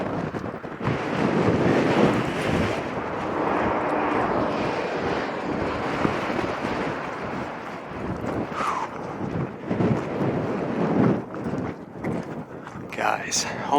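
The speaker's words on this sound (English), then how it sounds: "Dang, it's windy." Strong wind buffets the microphone on an exposed hilltop, a steady loud roar and rumble that runs through the whole stretch, with a few brief voices and rustles mixed in.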